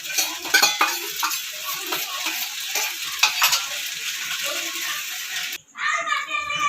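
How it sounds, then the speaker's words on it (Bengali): Chilli pasta being stirred with sauce in a pan, steady sizzling and scraping of a utensil, with a voice and other talk in the background before it cuts off abruptly near the end. "এবার সসটা দিয়ে সব ভালোভাবে মিশিয়ে নেব।"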